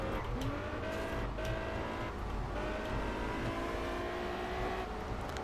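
A TVR driving behind in the Test Drive Unlimited racing game, a continuous loud engine drone with rising gear-change whines and tire noise, steady throughout.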